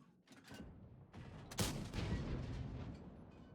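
A tank cannon shot fires in a tank battle game with the T803 vehicle, a sharp boom followed by a rumbling roll of gunfire and explosions.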